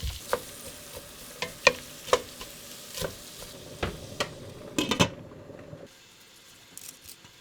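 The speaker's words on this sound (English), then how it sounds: "So I put a nice chunk of butter in the pan. Once that's melted, I add the onions and garlic all together." Onions and garlic fry in melted butter in a pan, giving a steady soft sizzle broken by scrapes and knocks of stirring that stop near the end.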